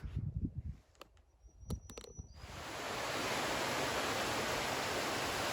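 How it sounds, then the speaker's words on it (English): A small waterfall on a hiking trail in South Carolina's foothills gives a steady, broad rushing roar. It rises suddenly partway through after a quieter stretch with a few brief knocks and movements, then holds constant and fairly close. "Really cool little waterfall right up here."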